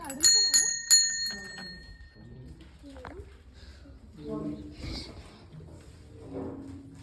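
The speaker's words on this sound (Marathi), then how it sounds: "एक छोटीशी घंटी आहे." Two bright rings of a small bell sound near the start, followed by quiet outdoor ambience with some faint voices and movement.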